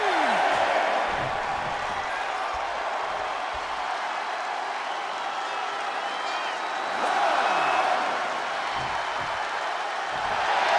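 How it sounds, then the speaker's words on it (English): A video game wrestling arena crowd in WWE 2K23 SmackDown roars steadily throughout, swelling louder near the start and again around the middle-to-late part, as a dense, continuous mass of distant voices. "Talk about a crowd in unison."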